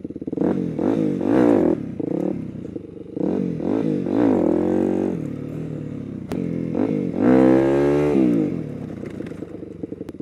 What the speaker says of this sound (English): A couple of wheelies to leave you guys on.